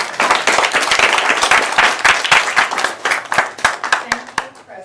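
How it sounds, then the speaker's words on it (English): Audience applause at a school board meeting, a room of people clapping steadily and fairly loudly for several seconds before thinning into scattered final claps. "So please give a round of applause in her absence to Amanda."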